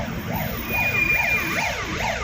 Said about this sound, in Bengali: অ্যাম্বুলেন্স হয়, আগে সাইড দিতে হবে।